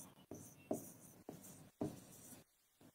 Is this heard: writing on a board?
yes